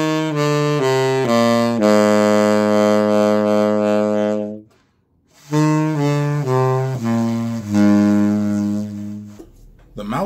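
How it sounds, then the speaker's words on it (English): A low saxophone note held long, then repeated after a brief gap with a breathier, softer tone; sustained and close. "So go back and forth between the straight tone low F"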